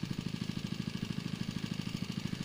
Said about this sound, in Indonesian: Tuh suara mesin pompa, mesin diesel.